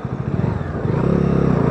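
Bajaj Dominar 250 motorcycle engine running close by, a steady pulsing single-cylinder thrum that picks up pace slightly and settles into an even, rapid beat, with no talk over it.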